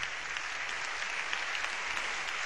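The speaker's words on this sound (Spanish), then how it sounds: "Yo creo que se merece un aplauso." A steady burst of audience applause in a conference hall, dense even clapping heard on its own from start to finish.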